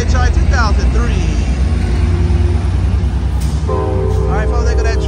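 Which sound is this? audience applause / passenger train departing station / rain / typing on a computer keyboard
passenger train departing station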